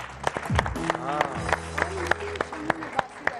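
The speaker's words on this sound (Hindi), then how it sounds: "बहुत सारी तालियां वकार के लिए भी।" A studio audience at a morning television show breaks into rapid applause with sharp individual claps, while a host talks and a musical jingle plays over it.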